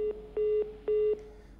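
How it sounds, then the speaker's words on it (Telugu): A phone call cuts off into a line disconnect tone: three short, evenly spaced electronic beeps, fairly faint and alone. "ఫోన్ కట్ అయినట్టుంది."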